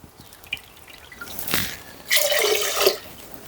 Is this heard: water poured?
yes